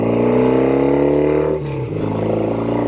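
A 1972 Norton 750 Commando Combat motorcycle engine drones steadily under load while riding, with a brief dip in pitch and level partway through as a gear shift goes in, then the engine picks back up.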